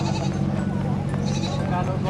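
Goats bleating in a crowded livestock stockyard, with several overlapping calls carrying steadily through continuous nearby talk.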